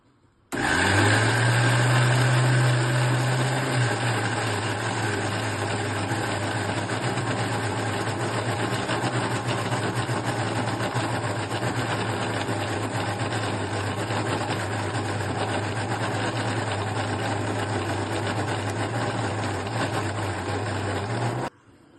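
A mixer grinder runs continuously for about twenty seconds, grinding urad dal batter smooth for vada, its loud steady motor whine and churning hum starting with a louder surge.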